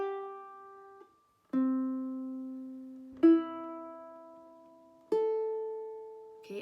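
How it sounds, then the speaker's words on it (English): Four open ukulele strings plucked one at a time from top to bottom for tuning, each note ringing clearly and decaying alone in a quiet room. "It should sound from the top string, the one closest to you, to the bottom."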